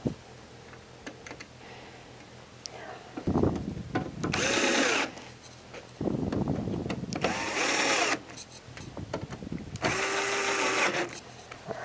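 A power drill drives screws into a compact blower housing in three sustained whirring bursts, close and loud, separated by quieter handling clatter and taps.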